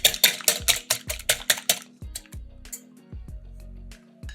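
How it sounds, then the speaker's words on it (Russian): Two eggs being whisked with a whisk in a bowl, a rapid run of metallic clinks against the bowl followed by slower, scattered taps, close and alone with no talk. "Взбиваем венчиком до однородной массы."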